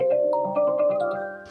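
Buoyant version of the iOS 26 Reflection ringtone on an iPhone: a bright, bouncy sequence of chiming synth notes over a sustained tone, playing clearly and alone for a moment with no talking.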